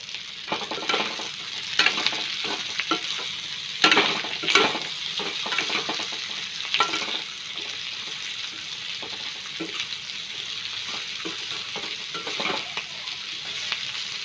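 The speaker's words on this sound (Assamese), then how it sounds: "এতিয়া এই কচু ভাজিকণ ঢাকনা দি অলপ দেৰি মূৰে মূৰে লৰাই এনেদৰেই ভাজিব লাগিব।" Chopped taro stolons fry in an oiled pan, a steady crackling sizzle broken by repeated scrapes and stirs of a spatula, close and fairly loud with no voices.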